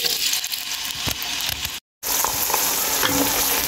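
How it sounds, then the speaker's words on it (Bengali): Chopped onions frying in oil in a pot: a loud, close, continuous sizzle with stirring scrapes, broken by a brief silent gap partway, no voices. "তেল দেওয়ার পর দিয়ে দিচ্ছি পেঁয়াজ কুচি।"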